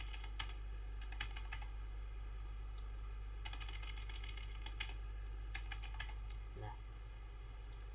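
Typing on a computer keyboard to enter data, scattered clusters of light, quick key clicks with pauses between, faint against a steady hum, with a brief spoken word.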